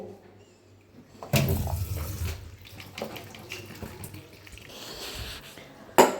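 Chopped ginger, onion and garlic being rinsed under running tap water in a kitchen sink: a soft trickle that swells into a louder splashing rush of washing, ending in a sharp knock.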